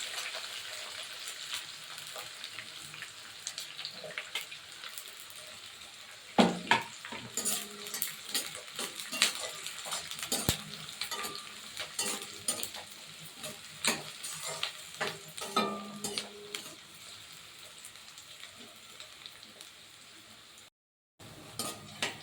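Onions sauté in a pan for a village-style fish curry: a soft ongoing sizzle punctuated by frequent spoon scrapes and metal clinks against the pan, with a brief silent gap near the end.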